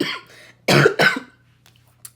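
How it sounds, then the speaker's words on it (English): Two sharp, loud coughs in quick succession, followed by a faint short rasp, with quiet moments in between. "Proceeds to have a coughing fit."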